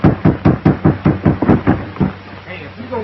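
Firm knocking on a door, about nine evenly paced raps close by, followed by faint voices as the knocking stops.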